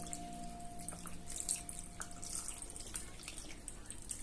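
Water shaken inside a plastic lasagna white-sauce bottle produces soft sloshing and liquid splashes in irregular bursts, fairly quiet and close, with no talk over it.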